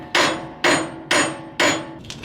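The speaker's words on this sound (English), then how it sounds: "So I am going to hammer it" Four loud, evenly spaced hammer blows on a car's front wheel bearing and hub during repair, each a sharp metallic strike with a short ringing decay, followed by a lighter tap.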